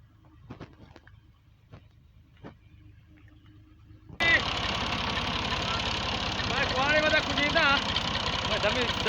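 A tractor engine runs steadily at idle while a wooden trailer is loaded with logs, a loud continuous mechanical rumble starting abruptly partway through after a quieter stretch of faint knocks and voices.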